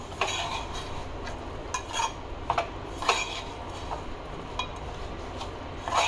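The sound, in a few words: sautéing chillies with crushed peanuts and coriander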